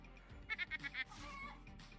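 Hen from the video game Luck Be A Landlord giving a short burst of four or five quick, faint clucks, followed by a softer drawn-out cackle.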